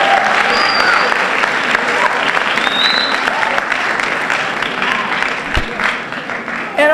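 Gear Up high school students cheer and applaud at a college-access event, with sustained clapping, whoops and crowd noise holding steady for several seconds before tapering slightly at the end.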